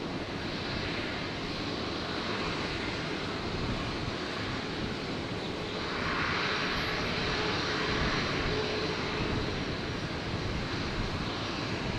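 A Velocity airliner rolls for takeoff on runway 01 right at Brisbane Airport, a steady broadband jet roar with a rising swell of engine power midway, heard from a distance with no talk.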